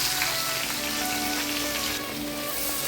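Five large sliced onions go into hot oil with mustard seeds for a duck mappas curry and fry with a dense, steady, rain-like sizzle. A faint tonal hum runs underneath, and no one speaks.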